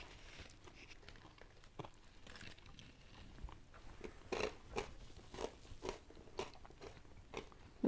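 A crunchy fig-style cookie is bitten and chewed close up, giving a series of faint, irregular crunches with no talking.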